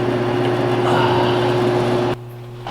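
A Kawasaki Mule utility vehicle's engine idles steadily at close range on a chilly 50-degree morning, a constant low hum with tonal drone that cuts off abruptly near the end, leaving quieter background.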